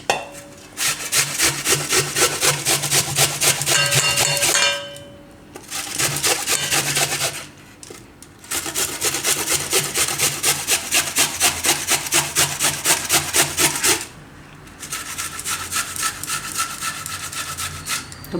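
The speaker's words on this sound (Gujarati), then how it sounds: "હવે ડુંગળી આપણે આ રીતે છીણી લેવું" Onion rubbed hard against a kitchen grater in long runs of fast, rhythmic rasping strokes, loud and close, broken by short pauses between bursts.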